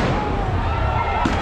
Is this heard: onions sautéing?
no